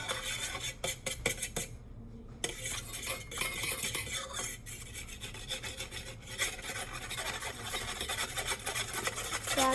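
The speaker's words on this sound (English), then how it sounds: "and then we're gonna start stirring" Food is stirred in a bowl by a child making a simple meal, giving soft close scraping and rubbing strokes with light clinks of a utensil against the dish, steady at low volume with brief pauses.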